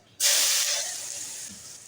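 Bay leaves, cloves and whole spices hit hot oil in a sudden loud sizzle that starts abruptly and slowly fades over two seconds, close and alone without speech.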